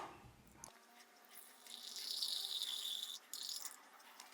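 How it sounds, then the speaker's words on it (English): Water, 440 grams, is poured into finger millet (ragi) flour for whole grain sourdough bread, a brief steady trickling pour of a few seconds, heard alone and fairly faint. "To that I add 440 grams of water"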